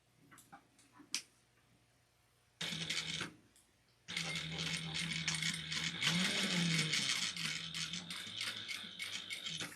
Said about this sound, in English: we're going to sew around this at a 1/2 inch seam allowance